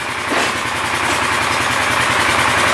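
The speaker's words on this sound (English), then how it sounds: "we're going to go for a little ride around the yard, try and make sure everything's working okay on my four-wheeler, on my ATV" An ATV four-wheeler idles close by in a yard, a loud, steady low putter with an even rhythmic pulse throughout.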